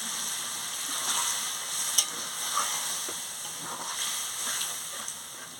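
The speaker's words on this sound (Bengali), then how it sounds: "জলটা দিয়ে ভালো করে ফুটিয়ে নিচ্ছি।" Soybean and potato curry simmers in a pan after water goes in, a faint, steady bubbling hiss with a few soft stirring knocks.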